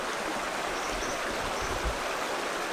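River running through thick rainforest jungle, a steady broadband rush of flowing water close by with no voices.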